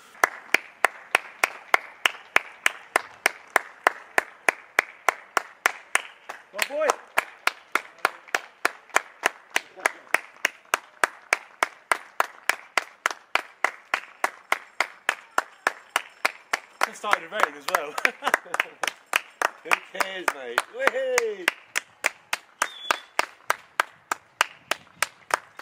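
Rhythmic clapping for NHS carers beats out in a fast, even pulse for the full length, with cheers and shouts rising in the middle and toward the end, and voices calling out over it.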